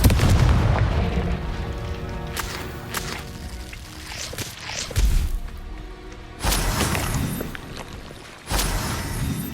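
Explosive Confringo and Bombarda spell blasts in the Hogwarts Legacy video game, a series of sharp whip-like cracks and booming impacts in quick succession, with heavy low thumps and bursts of debris noise, loud and close.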